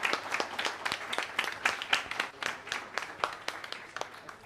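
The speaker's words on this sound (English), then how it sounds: "Give them a round of applause." An audience at a medical quiz event claps for the winners, a fairly faint, dense patter of many hands that holds steady for several seconds with no clear voices.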